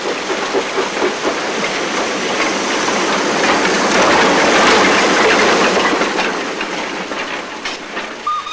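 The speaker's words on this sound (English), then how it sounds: "An example of the GWR's first diesel units is shunted out of the way on open day" An early GWR diesel railcar unit is shunted on a rail open day, giving a loud, close rumble with hissing and rhythmic clicking of wheels over rail joints that swells and then eases off.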